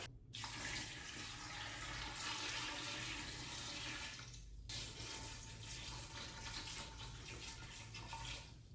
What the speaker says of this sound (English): I'm just getting them in the saucepan, and then I'm gonna add some water.